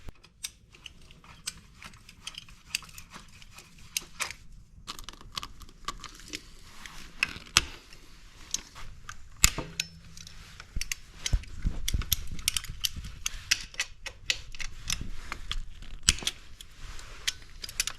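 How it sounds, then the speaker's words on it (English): Hand tools work bolts loose on a Sur Ron X electric bike, giving a busy string of small metallic clicks, ratcheting ticks and scrapes, close and fairly quiet, with a thicker grinding stretch partway through. "So let's go ahead and get these unscrewed and get this thing on here."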